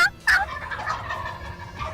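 A male wild turkey lets out a loud, abrupt gobble that trails off into a rattling tail. Faint bird calls are heard in the background outdoors.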